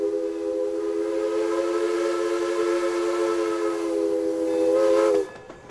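A steam train whistle sounds one long, loud, steady blast over a rushing hiss of steam, then cuts off abruptly.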